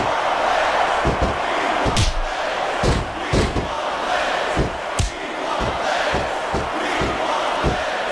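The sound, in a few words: crowd cheering at a wrestling match in WWE SmackDown vs Raw 2006 video game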